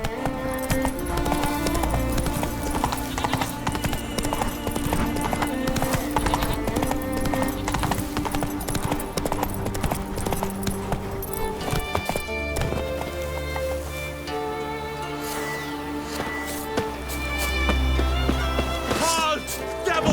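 Roach the horse galloping in The Witcher 3 on Skellige, rapid rhythmic hoofbeats running under loud orchestral game music and ambience throughout.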